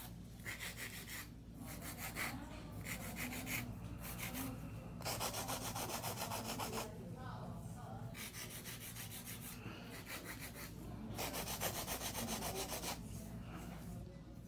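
An electric nail file fitted with a medium sharp 5-in-1 bit shapes acrylic nails during a full set, giving a steady close-up buzzing grind in repeated bursts over a constant motor hum, with no talking.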